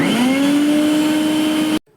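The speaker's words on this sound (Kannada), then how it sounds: "ನೆಕ್ಸ್ಟು ಕೊಬ್ಬರಿನ ಮಿಕ್ಸಿ ಮಾಡ್ಕೋಬೇಕು" An electric kitchen mixer grinder whirs steadily while grinding coconut, a loud close motor whine that holds for nearly two seconds and then cuts off abruptly into near silence.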